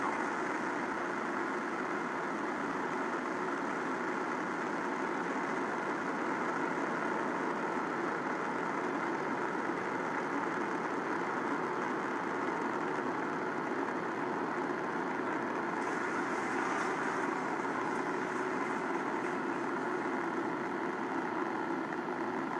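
Rocket engines roar at liftoff of a SpaceX Crew Dragon launch. The rumble is steady, dense and continuous, heard from a distance without a break for over twenty seconds, and no voices are heard.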